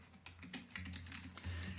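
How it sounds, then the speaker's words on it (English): Quiet typing on a computer keyboard while searching for the Sticky Notes app in Windows 10, a short run of soft, close key taps over a low steady hum. "just start typing in sticky notes"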